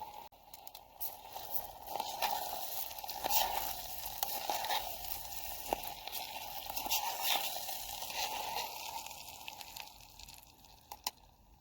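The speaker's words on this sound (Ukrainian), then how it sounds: "Я підсмажую гречку до того моменту, поки не почну відчувати приємний запах смаженої гречки." Buckwheat with salt and chili toasts in a pan over a camping stove, giving a quiet, steady sizzle with light scattered crackles and occasional scraping stirs, heard alone.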